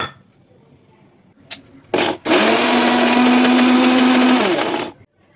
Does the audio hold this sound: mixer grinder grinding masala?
yes